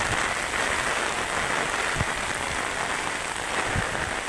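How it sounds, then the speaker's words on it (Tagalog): Typhoon Kristine lashing Masbate province in the Philippines, a constant roar of strong wind and heavy rain, broadband and unbroken, with a few sharper drop or gust knocks standing out. "malakas talaga yung hangin at ulan nadala nito ng bagyong Christine"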